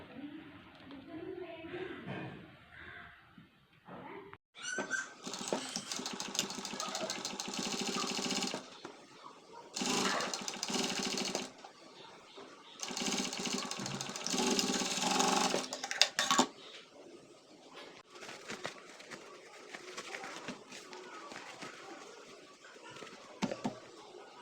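A sewing machine stitching a cloth face mask runs in several long whirring bursts separated by pauses, close and clear, with brief talk at the start.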